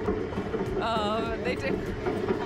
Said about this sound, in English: Right now we're taking a ride on the Korean Folk Village Railroad.